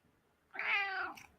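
A cat gives a single drawn-out meow, fairly close and clear, lasting under a second against a quiet room.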